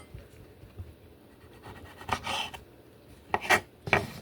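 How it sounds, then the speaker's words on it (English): Large tomatoes being sliced into thirds with a knife while making a salad, heard as a few brief scraping cuts near the end, close and fairly soft, with quieter taps earlier and no talking. "These tomatoes pretty big. Yeah, I think I'm gonna cut them in thirds."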